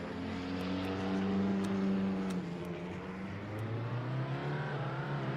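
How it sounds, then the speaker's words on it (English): Corvette race car in the racing sim Le Mans Ultimate, its engine a steady, loud droning roar that dips and climbs in pitch as it shifts and rushes past, heard alone with no talk. "That Corvette came in hot."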